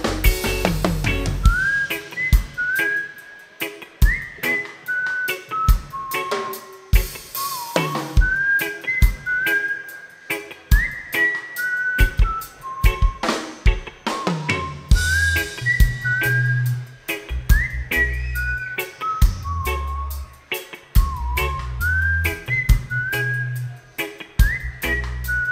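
A whistled melody carries a reggae band song. The bright, sustained whistled notes rise and fall in phrases over steady drums, bass and guitar for the whole stretch.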